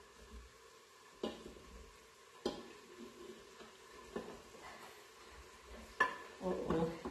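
Cauliflower tumbling into a pan for vegan stuffing, with a few sharp clattering knocks and stirring scrapes over a faint low sizzle, growing busier near the end.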